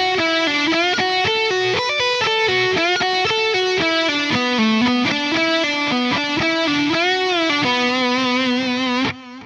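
A distorted electric guitar plays a riff, a continuous run of fast picked notes with bends and pull-offs, loud and saturated throughout, stopping sharply at the end.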